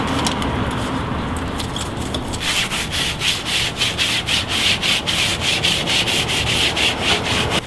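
A stiff brush scrubs a dirty bike drivetrain during a bike wash, a steady loud rhythm of rapid back-and-forth rubbing strokes, close up and continuous with no talk.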